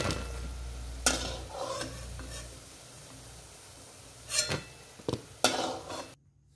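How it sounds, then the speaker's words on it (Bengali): Fried red lentil fritters lifted from a pan with a utensil: scattered sharp scrapes and clinks of metal against the pan over a faint low frying hiss, ending in silence. "সবগুলো বড়া ভাজা হয়ে গেছে, এখন নামিয়ে নেব।"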